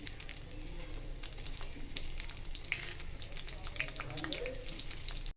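Tomatoes go into a hot pan with cumin for moraiya (barnyard millet) khichdi, raising a continuous close sizzle with soft stirring scrapes, steady throughout before cutting off at the end.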